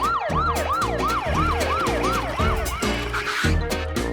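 A police car siren wails, sweeping up and down in a steady, repeating cycle, loud and close, over a low rumbling engine and traffic noise.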